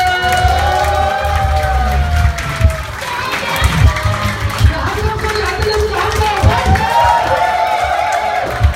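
Guests at a Korean first-birthday party applaud and cheer, a lively crowd with whoops and children's shouts over clapping, loud and continuous, with voices mixed into the din.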